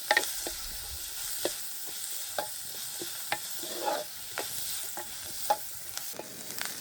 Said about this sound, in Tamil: வெங்காயம் எல்லாம் நல்லா பொரிஞ்சு வர வேணும்.